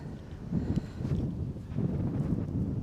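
Strong wind on a golf course buffets the microphone with a steady low roar and rumbling gusts, continuous throughout and without any talk.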